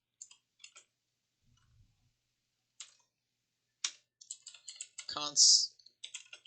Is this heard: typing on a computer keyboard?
yes